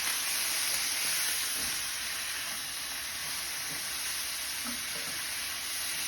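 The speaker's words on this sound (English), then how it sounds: "One would be to deglaze your pan." Wine hitting a hot pan to deglaze it while making Chicken Vesuvio, a loud, close, steady hiss and sizzle that fills the whole stretch with no talk.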